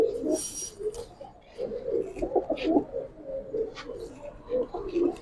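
Pigeons, Giribaz and colour breeds in a loft, coo in soft repeated low calls, with occasional higher chirps and background noise between them.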